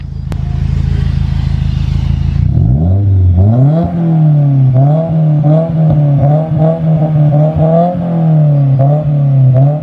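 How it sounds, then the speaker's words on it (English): A Subaru WRX engine with a stage 2 tune and catless exhaust revs loudly up close to about 4,000-5,000 RPM with a raw, raspy note, rising and falling in repeated pulls over a rumbling idle. "I'm gonna have James rev up the car for a little bit."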